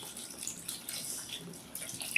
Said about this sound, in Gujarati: હવે આમાં જ આપણે દૂધી, બટાકા અને ટામેટા ડૂબે એટલું પાણી ઉમેરી દેવાનું